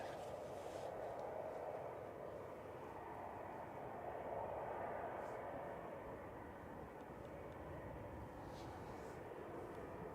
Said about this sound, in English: Just coming over the threshold now is Ryanair from Kerry, flight 6958 GRUKI